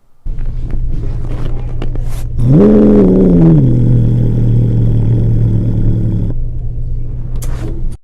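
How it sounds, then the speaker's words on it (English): An angry cat growls loudly, like a car starting up: a steady low rumbling drone that surges into a rising, wavering roar partway through, holds for a few seconds, then drops back to the low hum. "Here's an angry cat that sounds like a car starting up"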